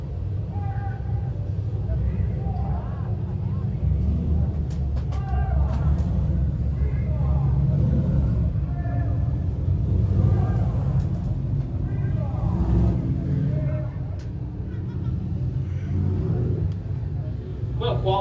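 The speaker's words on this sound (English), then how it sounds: "qualifying heat number 3 is out on the speedway for the dirt car sportsman division" Sportsman-division dirt cars running a qualifying heat on a speedway, a loud continuous roar of several engines revving and rising in pitch, with an announcer talking over it.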